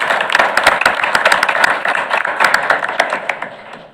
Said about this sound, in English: I'd like to maybe give one more round of applause to all of these fine educators.